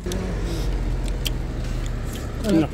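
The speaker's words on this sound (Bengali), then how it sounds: "ইঞ্জিন চলতেছে" A vehicle engine runs with a steady low rumble close by, swelling briefly louder near the end, while a voice is faintly present in the background.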